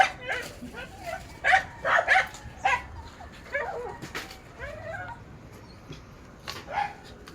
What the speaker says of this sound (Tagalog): Dami mo aso tayo.